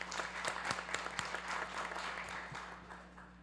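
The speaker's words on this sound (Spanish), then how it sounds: "Un fuerte aplauso, por favor." Applause from the audience at a criminal and forensic sciences symposium, a quiet hall of many hands clapping steadily at a distance, gradually thinning out toward the end.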